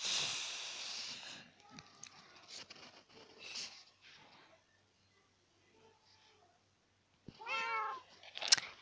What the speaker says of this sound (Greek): τις ακούτε τις γάτες έτσι?